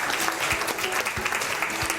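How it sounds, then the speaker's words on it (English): Audience applause for a volunteer called up at a public talk, a steady, fairly close round of clapping from a crowd with a few louder hand strikes and faint voices underneath. "Please give him a round of applause."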